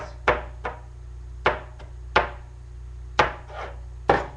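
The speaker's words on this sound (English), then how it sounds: "now you got your celery chopped up like this" A knife chops celery on a cutting board in a home kitchen, making about seven sharp, close knocks at an uneven, unhurried pace over a low steady hum, with no talking.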